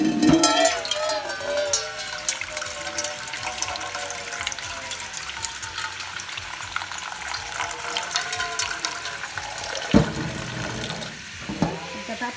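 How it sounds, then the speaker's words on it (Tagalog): A kitchen tap runs steadily, filling a container with clean water for cooking pork ribs, a continuous splashing rush that briefly shifts near the end. "Tapos kuha tayo ng malinis na tubig."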